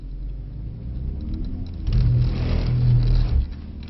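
A Mercedes-Benz C63 S E accelerates under power in second gear at Mercedes-Benz World, its deep engine rumble swelling sharply midway and holding strong before easing off, close up inside the car.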